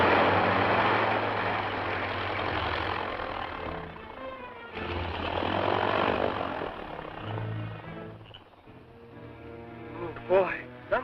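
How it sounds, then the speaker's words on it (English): A propeller airplane lands in the dark with a steady engine drone and rumble that swells and fades, followed by a brief sharp clatter near the end, with voices talking over it. "Boy, some landing, Tailspin."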